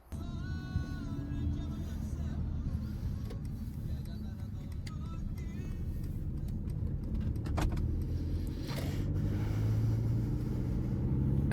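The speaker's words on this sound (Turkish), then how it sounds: "aracımızın sürüşüne başlamış bulunmaktayız" Inside a 2017 Mercedes C220d 4Matic diesel (170 PS) as it drives, with a steady low engine and road rumble throughout, rising slightly toward the end, plus faint light rattles.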